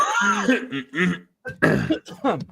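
Someone coughs and clears their throat in a few short, harsh bursts separated by brief pauses, close and fairly loud in a quiet indoor space.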